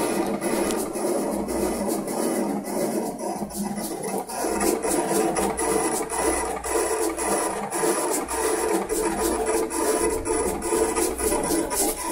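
A Summa S2 T75 vinyl cutter slices instrument-gauge graphics, its head lifting and pivoting to give a fast, steady rasping and scraping with rapid ticking pulses, continuous and close, with no talking.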